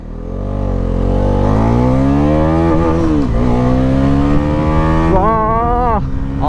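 A Bajaj Pulsar NS 400Z motorcycle on the move, its engine note rising steadily as it accelerates, dipping briefly during gear changes and climbing again, loud and close from the rider's position.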